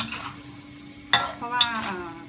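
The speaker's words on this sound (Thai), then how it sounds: "เราก็สามารถนำลงมาผัดอย่างนี้ได้เลย โดยที่ไม่ต้องไปลวกน้ำนะคะ" Sataw stink beans are stir-fried in a pan with a spatula. Two sharp scraping clinks against the metal stand out over a faint, low sizzle.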